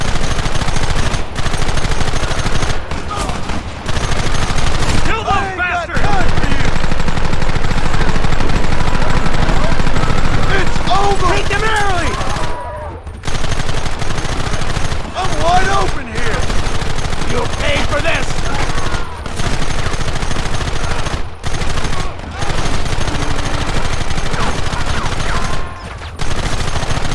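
Sustained heavy gunfire from a Red Dead Redemption shootout, with dense overlapping shots and volleys running almost continuously, broken by a few brief gaps, loud and close amid the battle din.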